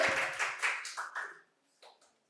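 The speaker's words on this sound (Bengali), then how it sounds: "একটা জোরে হাততালি হয়ে যাক ম্যাডামের জন্য" A brief round of audience applause at a quiz competition in a medical college hall, heard as a handful of distinct claps that quickly thin out and fade into silence after about a second and a half.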